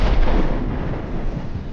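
A deep rumbling boom of rocket artillery fire in a wartime combat setting, a heavy, loud, sustained roar filling the clip on its own, with no talk.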